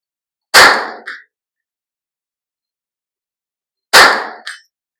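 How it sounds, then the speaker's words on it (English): Two sharp shots from a High Tower Armory MBS 22 rifle ring out about three seconds apart, each followed half a second later by the distant clang of a bullet striking a steel target at 100 yards. "I was very consistent with hitting the steel at 100 yards"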